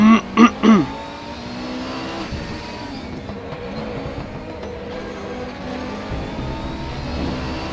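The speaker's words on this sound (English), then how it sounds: "there's a real turbo working in that car" Turbocharged race car engine in RaceRoom Racing Experience, a steady droning engine with turbo whine, preceded by three short loud tonal bursts at the start, heard close and continuous.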